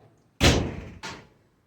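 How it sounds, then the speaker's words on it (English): A door blown shut by the wind slams loudly once, followed moments later by a second, softer bang as it rattles against the frame, with no voices. "Wind blew my door shut."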